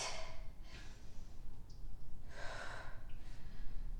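Deep, audible breaths during a sculpt workout with weights: two airy inhale-exhale bursts about two seconds apart, close and breathy over a low rumbling background, with no talking.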